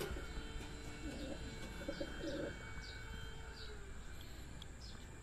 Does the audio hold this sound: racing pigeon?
yes